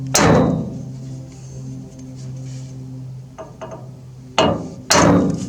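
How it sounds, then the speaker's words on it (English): A hammer striking a metal punch on a worn bearing spindle to mushroom it, three or four sharp ringing metallic blows close by with a lingering ring between them. "When you put the punch on there and you hit it, that makes a little mushroom type effect, makes the spindle a little bit bigger."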